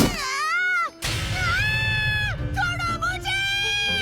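A voice imitates a cat, giving loud, drawn-out whining meows one after another, with a brief pause before the later, more broken calls.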